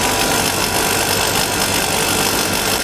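Small steam engine on a Rankine cycle test stand running and speeding up, a loud dense rushing hiss with a rough mechanical rumble underneath and no talk.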